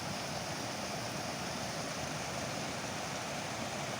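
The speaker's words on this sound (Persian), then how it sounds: "با این صدای آب،" Water flows steadily in Shazdeh Garden in Kerman, a soft, even rushing wash like a fountain or cascade channel, constant and fairly faint with no voices.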